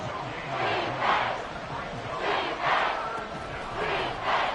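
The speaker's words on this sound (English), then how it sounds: "Crowd getting in it again already." Stadium crowd noise from the Madden 24 football video game swells and fades in repeated waves of cheering, a broad roar rising roughly every second or so, moderately loud and continuous.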